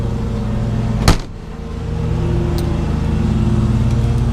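An old Ford car engine idles steadily with a low, even rumble, a sharp clunk near the start briefly interrupting the running sound before it settles back to a continuous hum.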